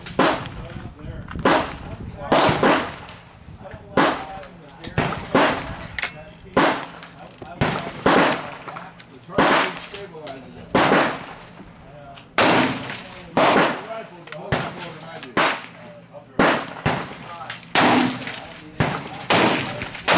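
A Hatsan 135 .25 caliber air rifle fires repeated shots at a 100-yard range, each a sharp, loud crack with a short tail. Roughly twenty shots come at irregular intervals a second or so apart, with people talking faintly in between.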